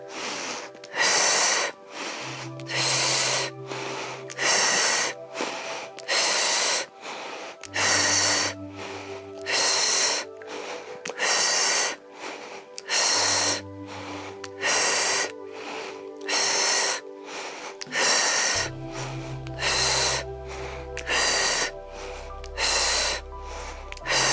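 Someone breathes heavily through an abdominal workout, with forceful rhythmic exhales and snorting gasps repeating steadily over a low musical backing.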